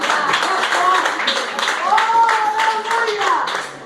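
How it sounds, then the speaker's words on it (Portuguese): Church congregation applauding together, a steady wash of clapping hands mixed with voices and cheering throughout, fairly loud and close. "Dá uma salva de palmas para Jesus."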